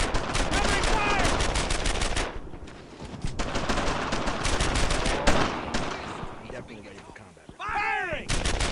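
Heavy rapid gunfire and machine-gun bursts rattle through a World War II firefight behind German lines in Brothers in Arms: Earned in Blood, loud and near, with short pauses between volleys and shouted voices.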